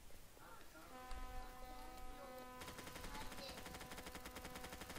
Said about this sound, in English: Man, the gun shoots weird.